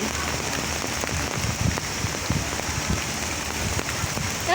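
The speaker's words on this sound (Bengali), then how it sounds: "এবার জোরে বৃষ্টি আসছে" Heavy rain pours steadily onto foliage in the woods, a dense continuous hiss of drops with scattered closer patters, loud and unbroken for the whole stretch with no talk.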